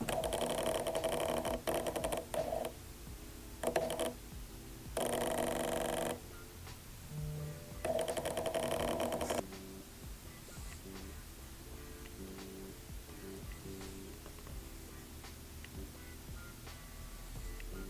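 Several short bursts of close mechanical whirring from a Canon camera lens autofocus motor, buzzing in fits and starts, then fading to a quiet hum.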